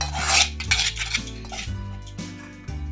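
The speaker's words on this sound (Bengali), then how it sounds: "এটা ভালো করে মিশিয়ে নেব এটা" Cake batter being mixed in a bowl, a spoon clinking and scraping against the sides in quick irregular strokes, close and clear.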